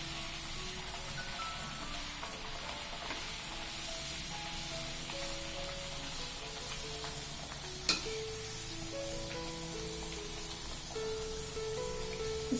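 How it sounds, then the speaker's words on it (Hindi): Corn flour puris deep-frying in hot oil, a loud steady sizzle and crackle of bubbling oil that continues unbroken, with a sharp clink of a utensil partway through and no talking. "ऑयल हमारा गर्म हो चुका है। अब एक एक पूड़ियाँ आप उसमें डाल दीजिए।"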